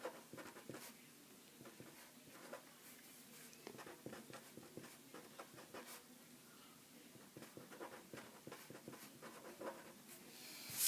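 A pen or pencil writes out a system of equations for an algebra problem, a faint close scratching of strokes and taps in irregular bursts against a quiet room.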